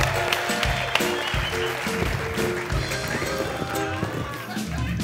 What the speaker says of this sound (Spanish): Un aplauso para Mau.